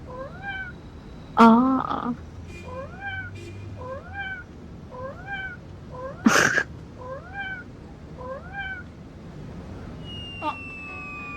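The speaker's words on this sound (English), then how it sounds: "You're making the cat meow?" Repeated cartoonish cat meows from the video game Butter Cat, a steady series of short rising calls spaced about a second apart, with a brief exclamation and a couple of sharper bursts among them.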